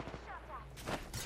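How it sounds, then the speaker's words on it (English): Gunfire in the video game Apex Legends: a few short bursts of shots, moderately loud, mixed in with someone talking over voice chat. "Someone's shooting."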